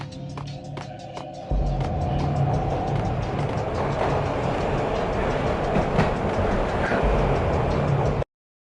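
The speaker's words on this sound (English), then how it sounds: "This was my second train ride of the night." A train ride in the Max Payne video game on a cold night, with a steady loud rumble of rail cars and rhythmic clickety-clack under constant noise, no talking.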